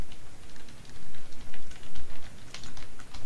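Rapid, steady keystrokes on a computer keyboard that is acting up, a dense close-up clatter of typing with no talking.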